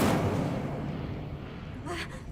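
An Incendio fire spell is cast in Hogwarts Legacy, a loud whooshing burst of flame that starts strong and rumbles on, with a second flare near the end.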